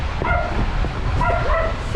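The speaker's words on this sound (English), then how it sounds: "Hi, dog. Bye, dog." A dog yips and whimpers in short bursts, fairly close, with street ambience behind it in Madeira or Tenerife.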